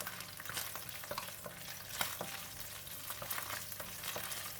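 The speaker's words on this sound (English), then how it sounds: "Give it a stir." Garlic and spices fry in hot oil in a pan, giving a steady sizzle and crackle, punctuated by soft scraping knocks as they are stirred.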